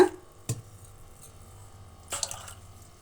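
Water splashes from a glass into a vessel of rice in two short bursts, the second longer and louder, with quiet stillness in between.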